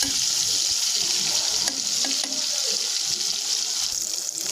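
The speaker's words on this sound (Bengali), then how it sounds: "নুন হলুদ দিয়ে চিংড়িটা আগে ভেজে নিচ্ছি" Shrimp coated in salt and turmeric fry in a pan with a steady, close sizzle and faint stirring taps throughout.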